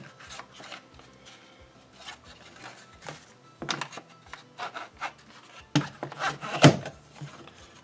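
A screw is tightened by hand into a GPS mount bracket for a Can-Am, making close, intermittent scraping and rubbing turns with a few sharper creaks near the end.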